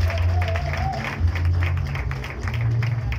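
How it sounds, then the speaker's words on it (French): Applause at a celebration marking a man's 60th birthday, a steady wash of crowd clapping at moderate volume that continues throughout without a clear break. "applaudissements"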